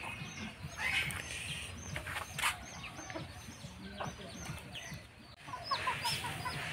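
Desi chickens cluck and chatter nearby in a village yard, overlapping calls from several birds running throughout against low background rumble.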